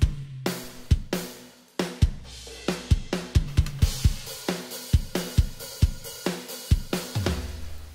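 Full jazz rock mix with drums and room microphones, punchy kick and snare hits in a steady driving beat alongside bass and guitar tones, loud and close with a heavy rock-metal character.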